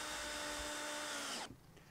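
Cordless drill driving stainless steel screws into pre-drilled side walls of a wooden hedgehog house, a steady close, loud whirring for about a second and a half that stops abruptly into quiet room noise.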